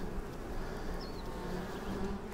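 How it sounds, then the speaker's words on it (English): Bees buzz steadily while working at their hive, a close, continuous droning hum that stays even throughout, with a brief higher-pitched buzz from a single insect passing near. "When you see the bees doing all this work, they encourage you to work hard."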